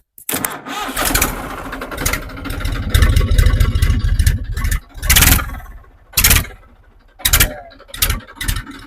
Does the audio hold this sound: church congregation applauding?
no